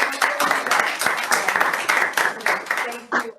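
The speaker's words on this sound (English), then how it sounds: "We'll give them a round of applause here." Audience applause for two presenters at a speaker-series event on COVID-19 and border communities, a steady close patter of many hands clapping throughout, with a voice briefly heard over it.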